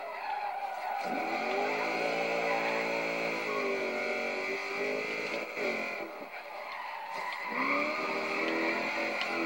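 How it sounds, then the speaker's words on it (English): Race car engine built for the Bonneville Salt Flats revving continuously at high pitch, a loud steady drone that rises and dips for nearly ten seconds, close by with no talk over it. "This thing takes forever to rev up"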